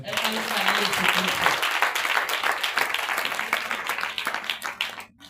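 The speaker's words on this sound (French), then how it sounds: "Acclame pour Jésus." Loud, dense applause and clapping fill a church service in honour of Jesus, swelling early and tapering off toward the end, with voices mixed into the crowd noise.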